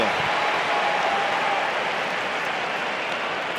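Crowd applause at a 2019 US Open tennis semifinal between Berrettini and Nadal, a broad, steady wash of clapping that holds evenly throughout, with no voices standing out.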